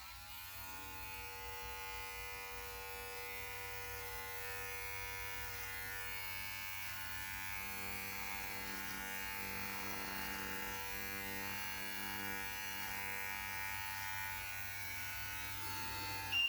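Electric beard trimmer buzzing steadily and close up while cutting a beard at home, a continuous even hum with no talking.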